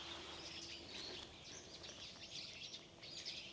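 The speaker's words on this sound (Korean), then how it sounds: "뒤 산에서 새소리가 엄청나게 들리는데요" Faint birdsong drifts from a distance on a wooded hillside, a scatter of high chirps and short trills over a soft, steady outdoor background hum.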